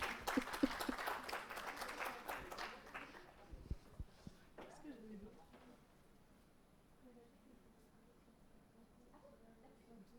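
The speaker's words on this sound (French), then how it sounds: "On peut s'applaudir." Workshop participants applaud themselves, a brief burst of clapping that fades after about three seconds, followed by quieter room sounds and faint speech.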